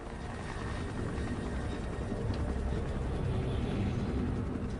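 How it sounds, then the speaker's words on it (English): A helicopter drones steadily, its rotor thrum and engine whine holding at a constant level as if hovering at moderate distance. "Kept my fingers crossed that helicopter was going to move on."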